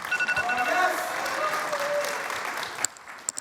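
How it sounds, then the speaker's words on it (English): Audience applause at an election debate for a physicians' association president-elect, a broad wash of clapping that fades over a few seconds, with voices and a few sharp claps near the end. "please hold the applause until the candidate is done with the answer"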